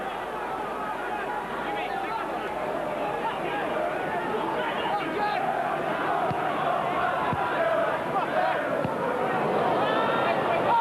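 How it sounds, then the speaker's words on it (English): A large football crowd at a 1992 Sunderland versus Middlesbrough match roars and murmurs in a steady, distant wash of noise, while a commentator talks over it. "Oohs from the crowd as that sliced clearance goes through to Tony Norman"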